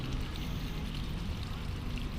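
Water pours steadily onto potted fruit plants, a soft, even trickling stream that runs without break at low volume and close by.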